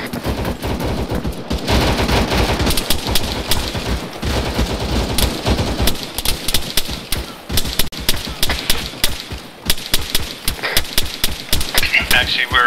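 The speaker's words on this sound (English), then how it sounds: "Red, it sounds like you got something up the road shooting at you" Sustained gunfire in an ARMA 3 military battle, with dense automatic bursts and single shots crackling loud and continuous throughout, near and far, with voices talking over the shooting.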